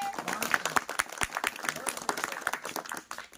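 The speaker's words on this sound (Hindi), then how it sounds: "चलिए अपने लिए ताली बजाइए।" Children in a class clap for themselves in a lively, uneven round of sharp hand claps lasting a few seconds. Voices mix in under the claps.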